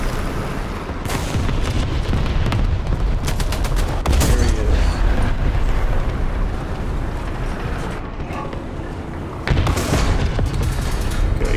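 Gunfire from a Swedish Lago 1 medium tank in the War Thunder video game: heavy repeated bursts of rapid shots and booming blasts over a constant engine rumble, loud and close.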